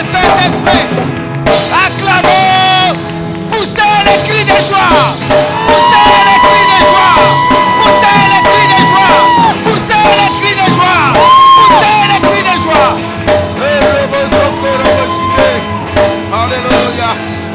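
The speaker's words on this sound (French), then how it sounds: "Poussez les cris de joie." A church congregation shouts joyful cries during a worship service celebrating the Holy Spirit, a dense, loud wall of voices and whoops layered over ongoing music and singing, sustained throughout.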